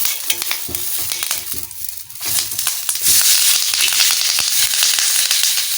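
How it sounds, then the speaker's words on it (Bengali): Raw banana leaf crackling in hot oil while fish cooks on it, giving a close, steady sizzle full of sharp pops and snaps that grows louder and denser partway through. "কাঁচা কলা পাতা তেলের পরে দিছি না তার জন্য একটু ফুটতিছে"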